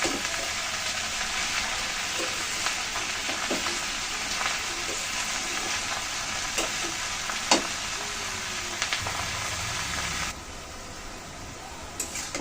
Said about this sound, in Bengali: লবণ দিয়ে শাক ভালো করে নেড়ে ছেড়ে নিয়েছে